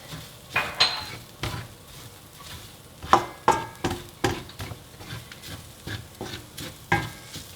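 Curry cooking over high heat in a pan for vegan curry fried rice, with a spatula stirring and scraping in repeated, uneven clanks over a low, steady sizzle. The sounds are close and clear.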